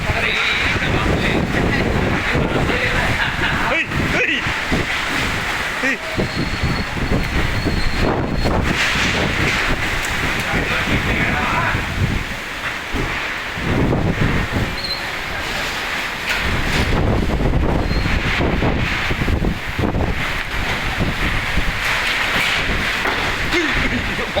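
Heavy rainstorm with strong wind in the Baranjala Sable area, a loud, continuous roar of wind and rain buffeting the microphone throughout, with gusty surges and no clear speech.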